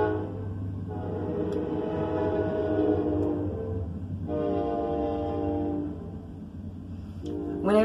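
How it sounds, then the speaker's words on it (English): A train passes with its horn sounding in long blasts, loud rumble underneath and repeated horn calls near the start and middle, no talking. "hold on, there's a train."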